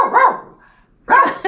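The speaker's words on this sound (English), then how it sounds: "That's our puppy dog." A puppy barks in two sharp bursts separated by a short pause, close and loud, with no talk over it.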